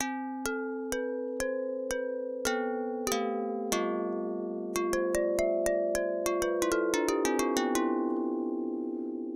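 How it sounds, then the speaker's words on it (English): A physically modeled synthesized bell, not sampled, rings out in a melodic sequence of struck tones, each strike ringing with a metallic shimmer, speeding into a quicker run near the end. "Let's do a bell. So it'll create a bell for us."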